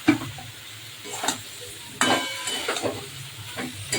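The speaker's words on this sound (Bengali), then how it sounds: "এবার দিয়ে দেবো ফুলকপিটা" Cauliflower hits hot oil with red chilli powder and spices, setting off a sudden burst of sizzling, with scraping stirs and soft clatter in the pan over a steady frying hiss.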